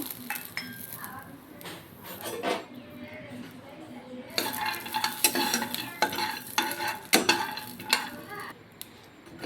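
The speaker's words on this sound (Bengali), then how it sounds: "বাদামগুলো আমার ভাজা হয়ে গিয়েছে, এগুলোকে তুলে নেব।" Peanuts dry-roast in a dry wok, stirred with a metal utensil that scrapes and clinks against the pan in busy close bursts, with a soft hiss underneath.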